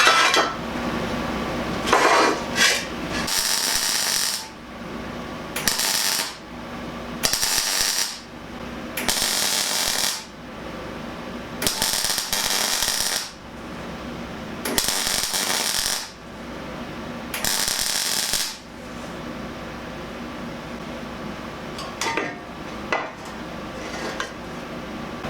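MIG-style welding fills a gap on a Land Rover Series 3 under restoration, with repeated crackling, buzzing bursts of a few seconds each separated by short pauses. The sound is close and steady, with no speech.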